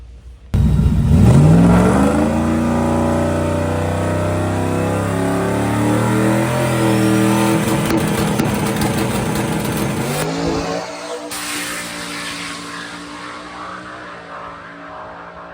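Drag race car on a testing pass, launching hard and accelerating down the track, its engine roaring loud and close as it climbs through the gears for about ten seconds before the sound drops away and fades.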